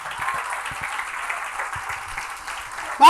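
A church congregation breaks into steady applause during a worship service, a dense wash of clapping filling the room for about three seconds before a sudden louder burst at the very end.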